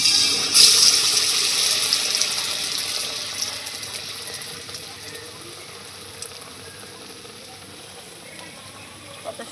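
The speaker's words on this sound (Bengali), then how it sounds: "এবারে ব্যাটারের সঙ্গে এই রোলটা মাখিয়ে এবার তেলে ভাজতে" Batter-coated rolls made with flour sizzle steadily in hot oil, a close, dense crackle that is loudest at first and slowly eases off. No one talks.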